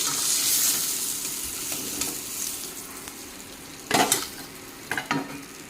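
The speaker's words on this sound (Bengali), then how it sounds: "মাছের মাথাটা বেজে নিই লবণ দিয়ে" A fish head fries in oil with salt, giving a continuous crackling sizzle with occasional clinks and two sharper bursts of scraping or turning near the end, close by and without talk.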